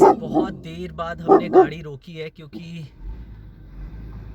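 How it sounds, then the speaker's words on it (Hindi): A pet dog named Tiger barking in short yips and whimpers during a roadside stop on a car trip, heard under someone talking, followed by quieter rumbling background. "कुत्ता आ गया, इसलिए कुत्ता हमारा भौंक रहा"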